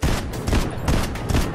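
Rapid bursts of gunfire from a weapon in Fortnite Chapter 5, several sharp shots in quick succession, loud and close, with no talking.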